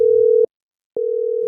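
A phone call tone on an unanswered call: two steady electronic beeps, loud and clean, separated by a brief silence.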